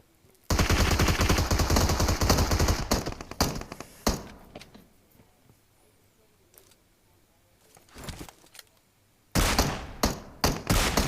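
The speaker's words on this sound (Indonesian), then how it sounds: "Dia nembak dari mana sih Pak?" Dense bursts of rapid gunfire from a video game shooter, with long loud volleys at the start and end and a brief burst in between, while players talk over the action.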